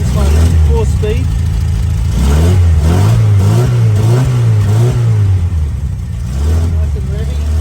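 A 1969 Lotus Europa S2 Federal with a Triumph Herald conversion and four-speed box revs repeatedly, its engine note climbing and falling in a rising, wavering pattern, loud and close, with someone talking over it.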